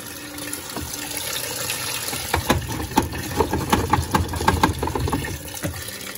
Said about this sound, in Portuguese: Bom, acabou de atingir o nível, começo a jogar o amaciante.